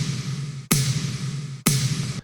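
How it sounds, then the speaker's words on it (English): A sampled snare drum hit from a Cashmere sample pack, heard twice with long, noisy, washy tails that ring on until the next hit, loud and alone. "the snare is just a cashmere sample"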